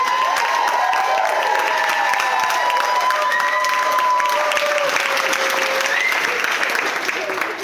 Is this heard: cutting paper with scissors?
no